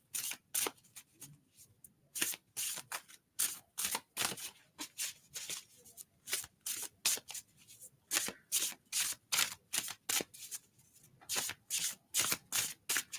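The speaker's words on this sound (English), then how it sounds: "I'm just shuffling them, guys." Tarot cards are shuffled by hand in repeated quick riffling bursts with short pauses between, close and fairly quiet, with no talking.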